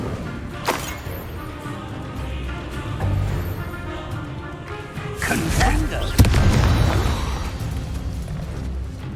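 Fiery Incendio spell blasts in Hogwarts Legacy, heard as several booming bursts amid a dense, noisy battle soundscape, with the heaviest impacts toward the end.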